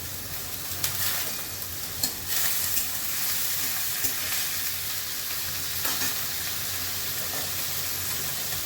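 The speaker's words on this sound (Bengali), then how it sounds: "আমি চিংড়ি মাছগুলো এবার দিয়ে দেবো," Prawns frying with banana stem and onions in a pan make a steady sizzle broken by a few stirring scrapes, close and even throughout.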